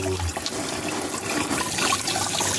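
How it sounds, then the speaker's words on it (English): Rough-tumbled jasper rocks are rinsed under running water, giving a steady, close splashing rush of water with some faint clatter underneath and no voices. "We're just going to rinse this off and put the next level of grit in there."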